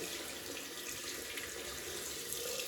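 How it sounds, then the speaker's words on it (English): A shaving soap bowl is rinsed under a running tap, giving a steady, close rush of water splashing into a sink with no speech. "So that's the bowl. I'll rinse that out"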